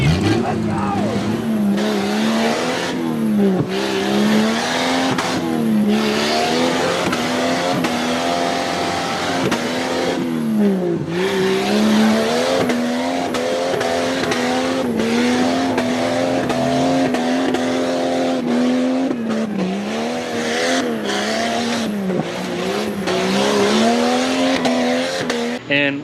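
A Jeep on 31-inch tires revs hard and crawls over off-road obstacles, its engine droning loud and close with rising and falling pitch, under excited shouting voices.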